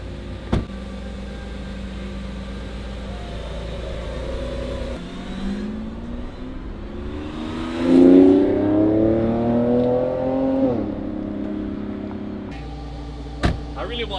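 Lamborghini Aventador engine accelerating from inside the car, a low steady drone that swells into a rising rev around the middle, then drops back to a quieter hum.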